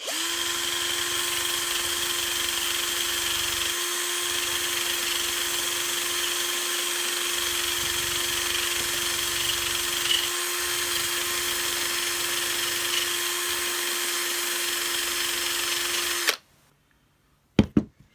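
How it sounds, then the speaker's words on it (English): A power drill runs steadily with a strong whine while stripping rust from the top of a Hoover Junior U1206 vacuum part, continuing for about sixteen seconds before cutting off, followed by a few brief clicks. "with my drill, I'm just going to remove the bit of rust off the top."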